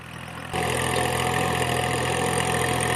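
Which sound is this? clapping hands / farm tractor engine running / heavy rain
farm tractor engine running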